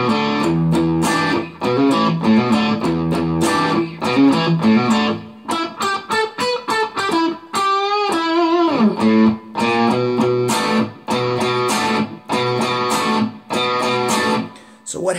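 Electric guitar plays a riff, including the walk-up, with a lightly overdriven tone; chords and bends ring out steadily across the passage, close and loud, with no talking.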